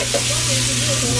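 Garlic sizzles in hot oil as a dense, steady hiss, loud and close, with a low hum and a faint voice beneath it.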